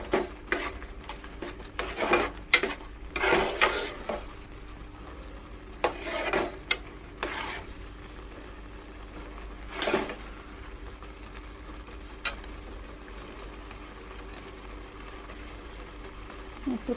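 Raw mango murabba simmering on a low flame, soft bubbling under intermittent scraping bursts of a spoon stirring the thick syrup in the pan, quiet and close, no talking.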